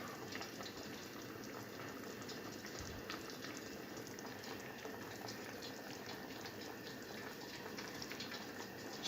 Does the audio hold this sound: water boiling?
yes